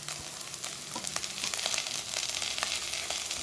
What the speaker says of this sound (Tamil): இந்த ஸ்டேஜில் தக்காளி போடுறேன் நான்